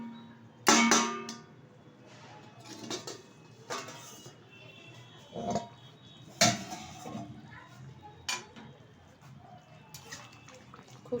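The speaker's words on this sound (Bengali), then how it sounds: "ঢাকনাটা তুলে দিচ্ছি।" A lid is lifted off a cooking pot of chicken, with a few sharp metallic clanks and clinks spaced out over a low kitchen background.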